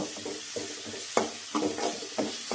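Chopped tomatoes sauté in a pan with a low sizzle, broken by repeated scraping stirs that come in a loose rhythm.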